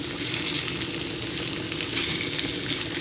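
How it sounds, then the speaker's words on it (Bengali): Vegetables, fried with their skins on, sizzle in butter in a covered pan, a steady dense hiss that runs the whole time with no pauses and no talking. "এটা আমি ঢেকে ঢেকে ভাজা করব, আর যেটুকু বাটার আছে সেইটুকু বাটারেই আমার ভাজা হয়ে যাবে"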